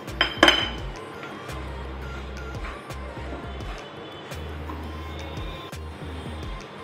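Semolina is roasted and stirred in a pan over a low gas flame, with a sharp metallic clank near the start, then repeated light scraping and clinking of the spoon against the pan over a low hum.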